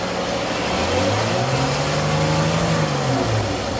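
A 2011-or-later Chrysler 300 engine revs up steadily as the gas pedal is pressed, its tone climbing and holding high before easing back, loud and close throughout with no talking.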